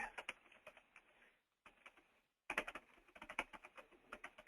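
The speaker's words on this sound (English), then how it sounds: "we're going to type in some keywords here real quick" Rapid, irregular clacking of keys on a computer keyboard as keywords are typed, close and fairly quiet, in bursts with a short pause midway.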